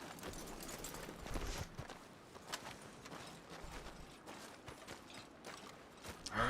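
Horse hooves in the open-world western game Red Dead Redemption 2 thud and clop in an uneven walking rhythm, fairly quiet and close, with faint mechanical creaks and no talking.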